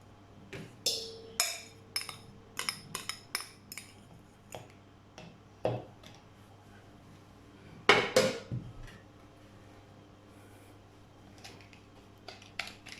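Whisk or spoon clinking against a bowl while sugar and egg yolks are mixed, heard as scattered sharp metallic taps and clinks in irregular bursts, loudest in a cluster near the middle, over a faint steady hum.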